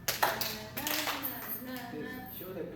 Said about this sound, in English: Show the clap slowly. Clap.